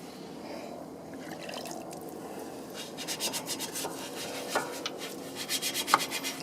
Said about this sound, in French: Donc là il a pris un pinceau aussi pour décoller tout ce qui est goudron.